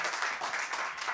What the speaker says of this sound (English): that's the applause of the people you can't see